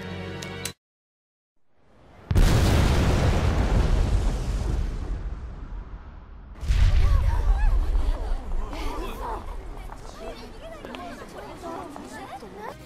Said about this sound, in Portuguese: Ele puxa o gatilho no pavio da bomba.